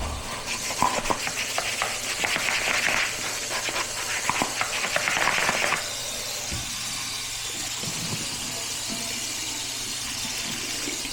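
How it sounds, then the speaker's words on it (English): Reptile water bowl scrubbed with a Fluker Super Scrub pad, a steady wet rubbing and swishing that runs loud for several seconds, then drops to a quieter background hiss. "Take each of the Reptiles bowl and use the Fluker Super Scrub. Just gets any bacteria off."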